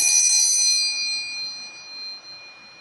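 One clear, bright bell strike opens a playing-card reading. The high ringing tone sustains with shimmering overtones and slowly decays over a few seconds with no talk over it.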